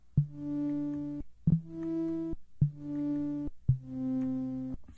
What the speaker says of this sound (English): what you're hearing is actually a two operator sound